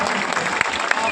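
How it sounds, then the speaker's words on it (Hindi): A crowd at a political rally in Bihar claps, dense continuous applause close by, with a voice speaking over it. "अब बजा लीजिए ताली"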